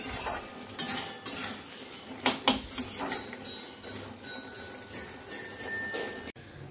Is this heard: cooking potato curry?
yes